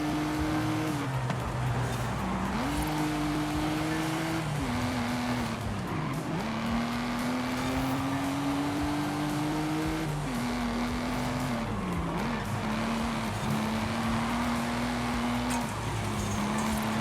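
Cars race in Forza Horizon 5, chasing a Toyota Supra, with a loud sustained engine drone whose pitch climbs and drops through repeated gear shifts, plus occasional tire squeal, and no talk.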